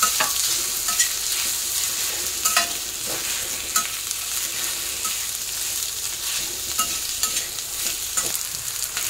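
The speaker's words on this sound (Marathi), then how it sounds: "त्याच्यानंतर हे काजू, कसुरी मेथी, आलं आणि लसूण हे पण आपण चांगलं तेलात परतून घ्यायचं आहे" Cashews, kasuri methi, ginger and garlic sauté in hot oil for Maharashtrian shev bhaji, giving a continuous close sizzle broken by frequent scraping stirs of a spoon against the pan. No one speaks.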